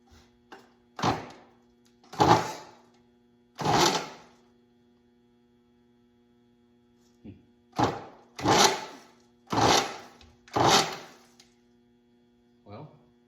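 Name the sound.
WWII Jeep engine cranking on starter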